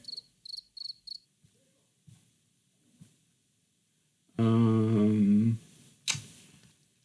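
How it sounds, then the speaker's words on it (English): Crickets chirp in a room, several quick high-pitched bursts near the start and fainter trills afterward, with a loud low sustained noise cutting in mid-clip. "there have been crickets chirping for a little bit"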